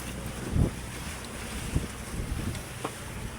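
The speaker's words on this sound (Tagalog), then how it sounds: "Parang maalon yata ngayon ah." Choppy waves slap against a moving boat, a few louder splashes over a constant rush of wind and water.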